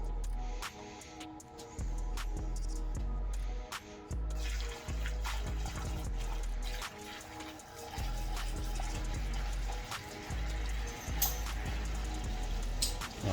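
Fuel pours steadily through a funnel into the filler of a C4 Corvette that had sat in a garage for 20 years, a continuous liquid gushing and trickling with brief pauses and small splashes, close and fairly loud.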